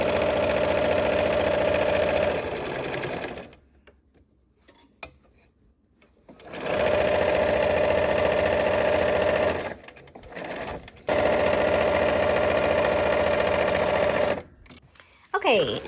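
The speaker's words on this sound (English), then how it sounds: "Okay, let's sew." A sewing machine stitching the last row of a quilt block, running in long steady bursts of fast mechanical whirring with a loud motor hum, separated by quiet pauses and a few short starts and stops.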